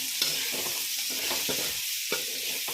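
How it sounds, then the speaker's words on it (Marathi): Sliced onions fry with turmeric in a kadai for mixed vegetable pulao, a steady close sizzle broken by repeated scraping strokes of a spoon stirring the pan. "कांदा परतून घेतल्यानंतर हळद वापरूया आणि छान आहे मिक्स करून घेते"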